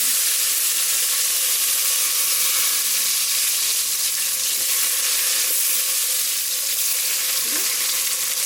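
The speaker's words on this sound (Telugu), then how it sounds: "ఇప్పుడు ఇందులో ఆనియన్స్ని యాడ్ చేసుకుందాం" Onions sizzling and frying in hot oil for bagara rice, a steady, loud crackling hiss that fills the whole stretch without pause, with faint stirring.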